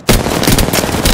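A loud, close burst of rapid automatic weapon fire in Apex Legends, a battle royale shooter, with shots rattling steadily from start to finish without pause.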